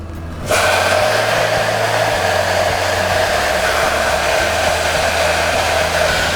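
Cluster beans hit hot oil with garlic in a home kitchen, setting off a sudden loud, steady sizzle that holds evenly without talk.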